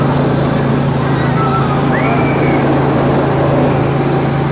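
Loud, steady engine hum with a constant low drone, like a small vehicle motor running continuously close by; an amusement park ride car revving at Cedar Point.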